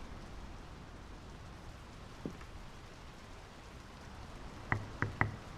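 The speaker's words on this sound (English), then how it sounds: "The rain's picking up." Steady rain patters down in the video game Draugen, with a few sharp knocks near the end.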